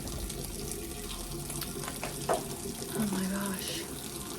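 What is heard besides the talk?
tap water running while rinsing face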